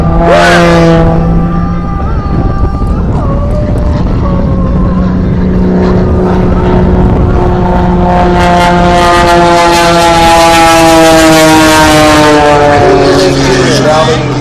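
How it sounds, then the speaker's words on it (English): An aerobatic airplane at an air show tumbles overhead with a loud, continuous engine drone. The pitch rises and falls as it maneuvers, staying close and dominant throughout. "Watch it tumble that airplane down."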